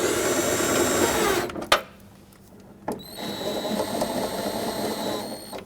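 Power tool whirring steadily while tightening the two mounting nuts on a 2003-2008 Toyota Corolla inner taillight, with a brief pause and click midway before the buzzing resumes, close and moderately loud.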